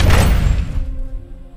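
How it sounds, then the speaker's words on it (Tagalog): A heavy door slams shut in a dramatized scene, one loud booming thud at the start that rings out and fades over about a second, alone without voices. "Natigilan ako nang marinig ang malakas na pagsara ng pinto."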